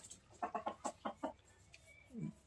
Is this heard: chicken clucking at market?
yes